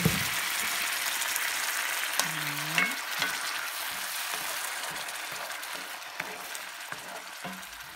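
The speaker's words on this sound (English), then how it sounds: "here's oil is hot. I'm gonna put some this paste we made." Homemade spice paste dropped into hot oil for a potato and egg curry, a steady soft sizzle and crackle with occasional stirring clinks and scrapes, fairly close and quiet.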